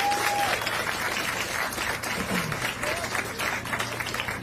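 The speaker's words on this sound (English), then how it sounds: "Can we give our beautiful gospel singers another round of applause?" A crowd at a National Pan-Hellenic Council plaza dedication gives gospel singers a steady round of applause, a thick, even wash of clapping that holds at the same level throughout.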